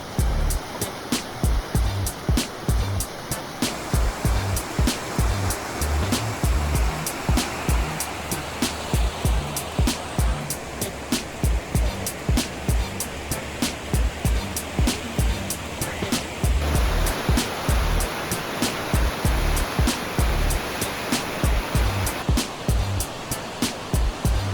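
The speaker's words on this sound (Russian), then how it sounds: "Видно реку, бурлящую, потоки." The Bzyb river rushes below a glass bridge, a continuous broad roar of turbulent water with a regular series of sharp clicks or footsteps on top, fairly loud and steady, no speech.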